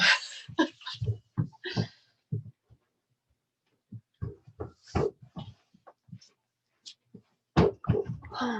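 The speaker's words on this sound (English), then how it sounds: "you can probably really hear my dog now" A dog somewhere in a quiet room makes a series of short, irregular sounds, loud bursts clustered at the start and again near the end with silent gaps between.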